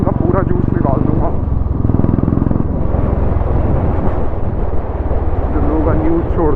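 A Royal Enfield Classic 500 motorcycle engine thumps and revs loudly and steadily up close, its low rumble running the whole way through with speech over it.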